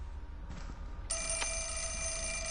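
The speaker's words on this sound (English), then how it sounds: "And the phone is ringing." A telephone rings in the survival horror game Fatal Frame 4, a steady electronic bell tone that starts abruptly partway through and continues, clear and close with no talk over it.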